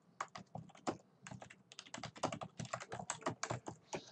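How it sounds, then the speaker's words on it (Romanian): Fingers type on a new computer keyboard, with quick, uneven clusters of crisp key clicks close by and short pauses between bursts. "Am cumpărat o tastatură nouă și nu mă descurc foarte bine cu ea."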